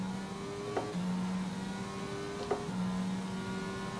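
Formula 1 cars in the F1 22 racing game at the Mexico Grand Prix give a steady, droning engine whine with faint passing bursts, heard without any talking.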